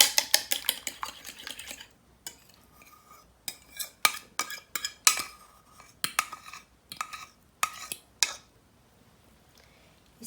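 An egg for a potato cheese pie being beaten in a bowl, quick irregular bursts of a utensil clinking and whisking against the dish, close and crisp with short pauses between strokes, no talk.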